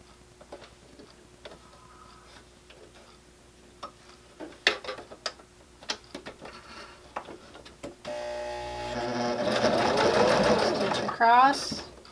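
A sewing machine stitching a fabric basket, first scattered ticks and clicks as the fabric is positioned, then a loud sustained run of stitching with a final whirring burst near the end.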